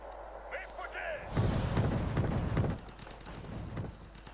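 Units firing in a Wargame Red Dragon multiplayer battle, a dense rumbling burst of artillery-like shots and explosions, loud and sustained for a second or so, then fading under a player's talk.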